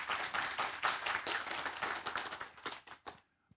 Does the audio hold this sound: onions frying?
no